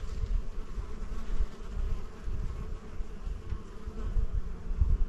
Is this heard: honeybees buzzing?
yes